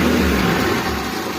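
A Daihatsu Zebra Espass engine, just doused with water, revs under throttle with a loud, steady, rough roar held briefly and alone.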